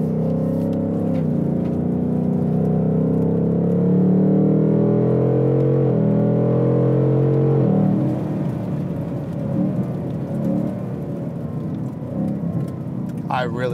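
A 2021 Ford Mustang Mach 1 drives on a wet road in sport mode, its engine droning and shifting pitch with a steady hiss of tyre spray, while a voice talks over it.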